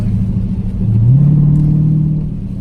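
A car engine rumbles at idle, then revs up to a sustained higher drone before easing back, loud and close, with no talking.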